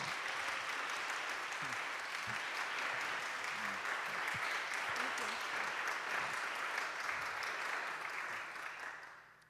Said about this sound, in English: let's offer one more round of applause to the Meek Squad for singing.